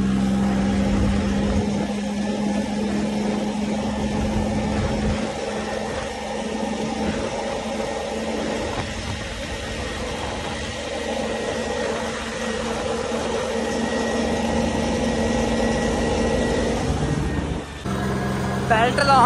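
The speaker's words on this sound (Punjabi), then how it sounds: "ਹੁਣ ਟਰੈਕਟਰ ਪੂਰਾ ਖੁੱਲ ਕੇ ਚੱਲ ਰਿਹਾਗਾ ਪੂਰਾ ਭੱਜ ਰਿਹਾ" An 855 tractor engine runs steadily with a continuous low droning hum and a constant mechanical whine, fairly loud and close, with a brief shift near the end.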